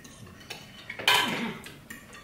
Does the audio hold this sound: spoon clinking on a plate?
yes